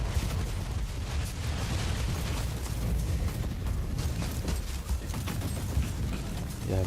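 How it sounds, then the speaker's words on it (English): A big explosion in the video game Warhammer 40K Inquisitor rolls out as a loud, dense, continuous roar of rumbling bursts that barely lets up across the whole stretch, with no voices over it. "Whoa, that was a big explosion."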